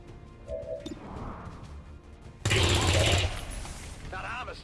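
Loud burst of automatic gunfire from XCOM 2, a dense roughly one-second volley after quieter game ambience, with voices talking around it.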